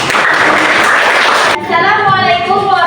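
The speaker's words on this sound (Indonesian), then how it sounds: "Tepuk tangan." Applause from a class, dense clapping for about a second and a half before it cuts to voices speaking over the room.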